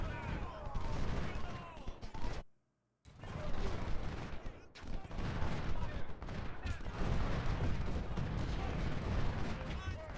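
Dense musket volleys crackle in Ultimate General: Civil War, a near-continuous roll of rifle fire with heavy booming bursts that breaks off into a brief silence before resuming just as loudly.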